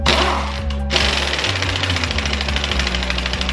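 An air compressor-powered impact tool tightens a strut mount on a BMW E46, a loud rapid hammering rattle that starts after a brief pause and then runs steadily on, close and harsh over a low mechanical hum.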